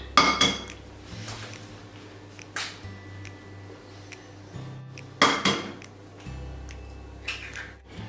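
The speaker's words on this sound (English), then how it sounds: "you want to add your 6 large eggs. So I'm just going to start cracking those in." Six large eggs are cracked one after another into a cake batter bowl, each giving a sharp close tap on the rim followed by quieter drips and shell rustles, spaced a second or two apart with no talking.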